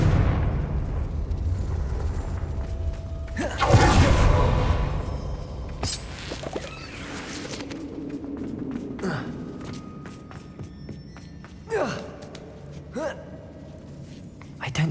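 A Confringo fire-explosion spell in Hogwarts Legacy bursts loudly with a broad blast and crackling tail, followed by softer magical effects and scattered echoes in a mine, with a voice calling out before the burst.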